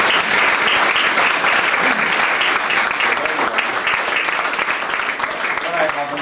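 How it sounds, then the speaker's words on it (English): Loud, sustained applause from a church congregation at a 1997 fundraising gathering, dense steady clapping filling the space throughout with no break. "I think a big clap offering to the Lord."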